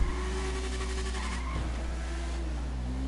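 Car engine revving steadily in Grand Theft Auto, a continuous droning growl with layered harmonic tones, close and loud throughout with no talking.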